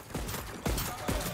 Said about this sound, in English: let's get into some shotgun action